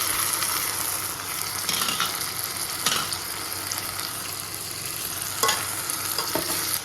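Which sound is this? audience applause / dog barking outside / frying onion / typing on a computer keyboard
frying onion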